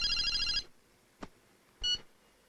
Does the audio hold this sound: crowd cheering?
no